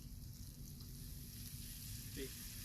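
Onions and peas with pre-cooked sausages frying in a pan, a faint, steady sizzle running continuously with a brief stirring scrape near the end.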